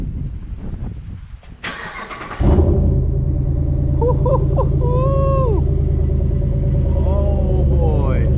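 A Ram Rebel 1500 pickup with a Carven exhaust cranks with a brief starter whine, then fires into a loud, deep, steady idle rumble that carries on, with a voice reacting over it.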